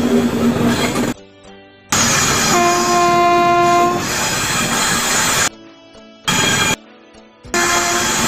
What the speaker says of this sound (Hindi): train new Barauni junction railway station पे जा रही है